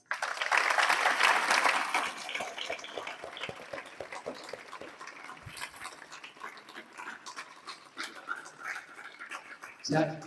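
A crowd at a yoga and meditation camp bursts into loud applause that fades within a couple of seconds into scattered claps, with voices talking underneath.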